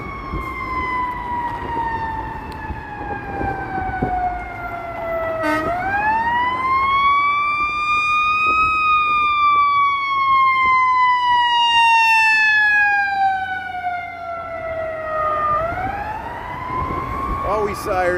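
A loud ambulance siren wails in long, slow sweeps up and down, close by, on a Chicago street, with street traffic noise underneath throughout.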